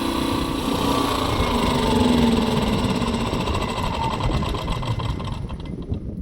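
An AL-KO generator's small engine runs without load while resting on a box, a steady, loud, even drone with a buzzing mechanical rattle that holds constant throughout, with no speech.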